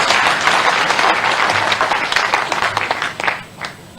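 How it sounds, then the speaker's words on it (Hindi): Applause from an audience at a BJP party office event in Bhopal, a dense and steady wash of many clapping hands that carries on loudly before thinning out toward the end. "फिर ताली बजाएंगे।"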